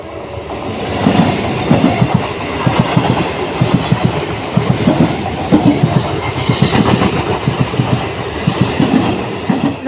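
A train rolling past on a railway line nearby, loud and sustained, with rhythmic clickety-clack of wagon wheels over rail joints repeating through the whole stretch, plus a faint squeal at moments.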